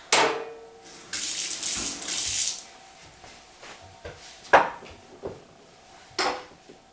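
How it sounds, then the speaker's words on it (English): Tap water runs over a jar lid being rinsed in a sink for a few seconds, then stops, followed by a few scattered clanks and splashes of handling. "Now I'll wash all that icky off."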